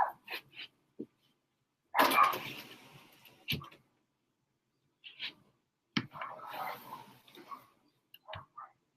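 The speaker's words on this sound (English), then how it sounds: "Sorry about the dogs barking." Indoor dogs barking in scattered bursts, several sharp loud barks and yips with pauses between, fairly close and without talk.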